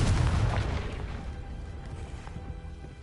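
A Confringo spell blast from the Hogwarts Legacy video game, a loud booming burst at the start that rolls off into a decaying low rumble with faint crackle.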